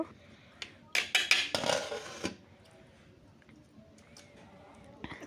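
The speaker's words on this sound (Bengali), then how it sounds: "ভালো করে নেড়ে দিচ্ছি না হলে নিচে লেগে যাবে আলুগুলো" A pot of potato curry is stirred with a spoon and its lid set back on: a cluster of clattering scrapes and metallic clinks early on, then quieter soft scraping and a final knock.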